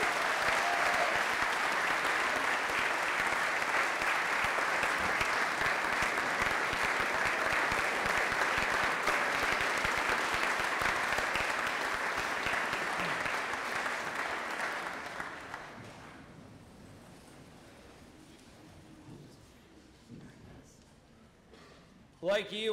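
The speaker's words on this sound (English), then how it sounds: "Let's give Ms. Evans a big round of applause." Loud, sustained applause from a school audience honoring Ms. Denise Evans at Darlington School, a dense wash of clapping that holds for about fifteen seconds, then fades out to a quiet room.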